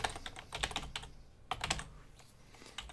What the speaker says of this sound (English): going to type my address here in the chat